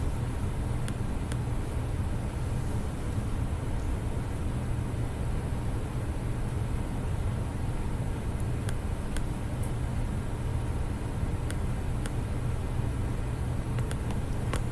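NASCAR race cars in a racing video game at the Pontiac 400 make a steady, unbroken engine drone with road noise, holding an even loudness throughout with no distinct passes.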